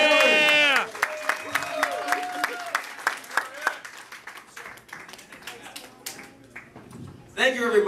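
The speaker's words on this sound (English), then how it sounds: "A round of applause." An audience claps to welcome a game-show contestant from Youngstown, a short burst of applause and cheering under an announcer's voice, with scattered claps continuing behind talk before a loud voice returns at the end.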